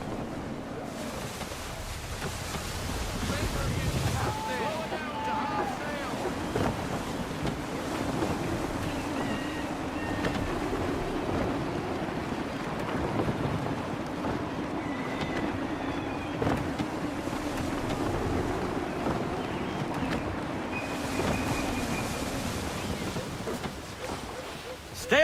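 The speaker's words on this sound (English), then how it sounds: "Gusty winds can be difficult to manage." Gusty wind roars over a sailing ship at sea in Assassin's Creed 3, blending with waves and hull wash in a steady loud rush that swells and eases, with occasional higher whistles.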